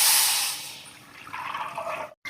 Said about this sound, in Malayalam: ഇതിലേക്ക് നമുക്ക് നാളികേരം പാലും അരി രണ്ടും ഒരുമിച്ചാട്ടോ ഞാൻ ഒഴിച്ച് കൊടുക്കുന്നത്